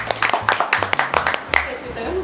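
A few people clap their hands at home during a family quiz show, sharp irregular claps close by mixed with lively talking voices.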